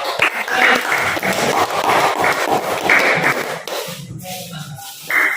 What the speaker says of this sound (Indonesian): Kalau itu kita berikan aplaus kepada kelompok 2